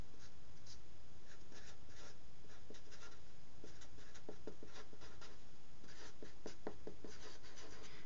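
Pen or marker scratching out a chemical formula, potassium oxide, on a surface: a close, quiet series of short strokes and taps at an uneven pace, with no one talking.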